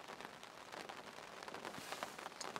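Steady rain falls on an overcast day at Norton Disney's Turners Lake, a continuous dense patter with scattered nearby drops, faint and even with no voices.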